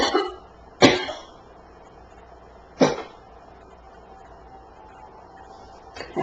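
Several sharp, isolated coughs break an otherwise quiet indoor room, spaced a couple of seconds apart, each a short harsh burst close to the microphone.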